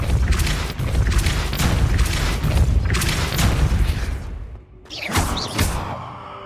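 A Depulso spell cast in the video game Hogwarts Legacy, heard as loud booming, whooshing blasts and thuds that run almost continuously, with a short dip before a final burst.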